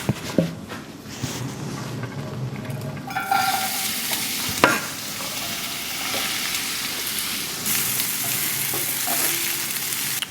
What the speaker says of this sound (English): We're just gonna cook these onions till they're soft.